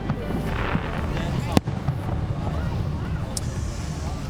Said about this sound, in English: a fantastic flurry of fireworks to cap off Dogwood Dell's annual celebration